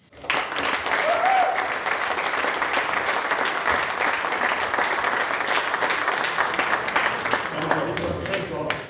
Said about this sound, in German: Begrüßen Sie mit mir und einem großen Applaus